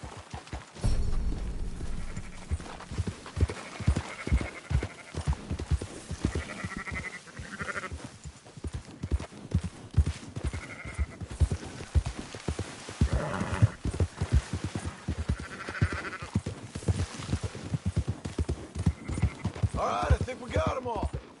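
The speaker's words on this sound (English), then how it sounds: "Marston, why don't you leave the sheep to me?" Sheep and horses herded in Red Dead Redemption 2: a dense, continuous mix of bleating sheep and goats with clip-clopping hooves, moving livestock filling the whole stretch, loud and near, with occasional faint voices mixed in.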